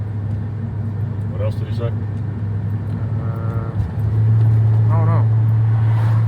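A 1997 Ford F250 HD pickup drives along with a steady engine drone that rises in pitch and loudness partway through as it shifts gears, with people talking inside the cab over it.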